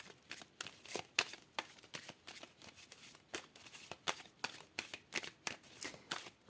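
Tarot cards are shuffled and cut by hand, a quick series of soft riffling flicks and taps in an irregular rhythm, close and quiet.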